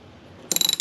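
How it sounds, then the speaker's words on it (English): A ratchet clicks rapidly in a short burst of about eight close, loud ticks while tightening a bolt on a Yamaha FZR1000 motorcycle, following a moment of quiet. "Try to tighten this down and make sure that I'm not over tightening it."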